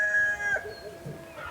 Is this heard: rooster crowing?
yes